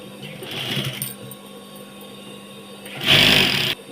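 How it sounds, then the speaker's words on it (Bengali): Sewing machine stitching the hem of a nightie, with a short whirring burst near the start and a louder, steadier run of stitching near the end, close by. "এবার আমরা ডাউনটাকে সেলাই করে নেব"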